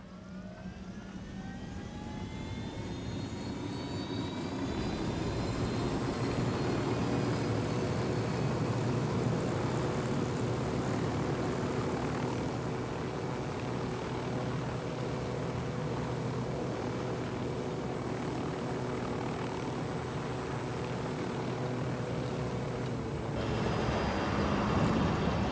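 An aircraft flies in the video game Ghost Recon, a steady, loud engine drone that rises in and holds for about twenty-five seconds, with no talking.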